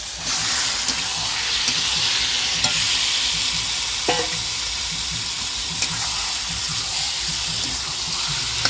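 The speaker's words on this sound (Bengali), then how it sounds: "আর এখন আমি দিয়ে দেব এই মাংস কড়াইয়ে।" Spiced duck meat, rubbed with salt, turmeric and raw mustard oil, goes into hot mustard oil in a kadai and gives off a loud, steady sizzle with occasional clinks of stirring.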